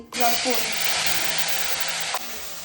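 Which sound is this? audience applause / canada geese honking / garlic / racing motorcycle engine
garlic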